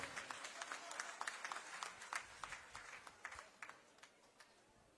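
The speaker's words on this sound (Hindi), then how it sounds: "जोरदार तालियों से इनका स्वागत करें" A political gathering's audience claps to welcome a chief minister, a quiet, fairly distant burst of applause with uneven individual claps for several seconds.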